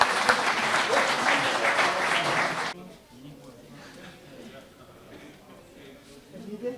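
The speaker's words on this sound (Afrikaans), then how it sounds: "Kom ons gee hulle aan 'n klap." A crowd at a Day of the Vow (Geloftefees) gathering at De Wetsdrift applauds loudly and steadily for nearly three seconds, then the clapping stops abruptly, leaving quiet room noise.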